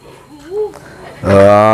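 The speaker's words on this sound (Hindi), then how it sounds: "ये और एक बकरा है" A male goat kept at a home farm, one that has fallen ill twice, lets out a single loud, close bleat that holds steady for about half a second, following a quieter stretch of faint low vocal sounds.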